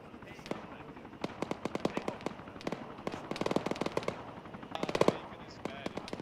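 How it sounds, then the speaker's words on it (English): Rapid automatic gunfire bursts and single shots in the military video game ArmA, sharp cracks in clusters of varying distance, some loud and close, with people talking over the exchange. "Sounds like shots."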